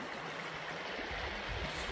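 A river flowing past its bank, a steady, even rush of water held at moderate level from start to finish.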